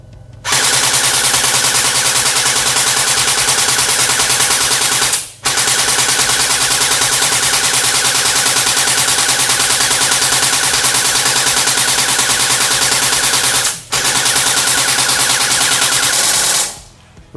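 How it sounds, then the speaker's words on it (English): Double Bell AKM airsoft rifle firing full-auto at the range, a dense, rapid buzzing rattle in three long bursts separated by two brief pauses, loud and close with no voices. "AK shouldn't have that crazy high fire rate like a M4 or submachine gun anyway."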